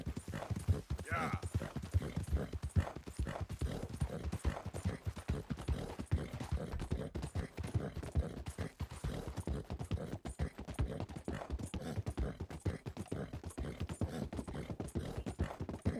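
Hooves clip-clop in a quick, steady rhythm as a horse is ridden in Red Dead Redemption 2, moderately close and constant, with a person talking over the hoofbeats.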